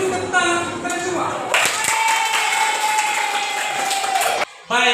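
A group of schoolchildren claps their hands in a classroom, with dense, continuous clapping mixed with voices and a brief pause near the end.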